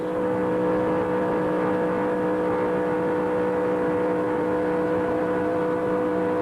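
NASCAR Busch Grand National race cars run wide open at Daytona, a loud, continuous engine drone with steady tonal whine holding throughout, no voices over it.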